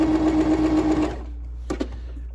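A starter sewing machine priced under $200 stitches a straight edge in a steady, close, rapid whir for about a second, then stops, followed by a couple of faint clicks.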